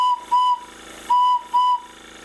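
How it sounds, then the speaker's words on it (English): The whistle of Isabel, a model steam engine run on compressed air, sounds in four short, loud, clear tonal blasts, two pairs separated by a brief pause. "Nice and loud whistle, isn't it?"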